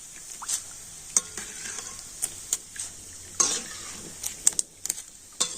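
Puffed sago pearls (sabudana) frying in hot oil, heard as a soft background sizzle broken by irregular clinks and scrapes of a spoon stirring and lifting them in the pan.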